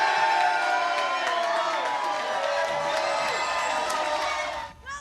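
Crowd at the grand opening of Arizona's first Buc-ee's in Goodyear, a steady indoor hubbub of many voices and chatter that stays level throughout before briefly dropping at the end.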